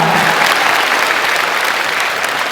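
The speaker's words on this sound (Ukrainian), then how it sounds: "Що ви плескаєте, то лиш їм двом." A stand-up improv comedy audience breaks into loud, sustained applause, a dense wash of many hands clapping close by with no talk over it.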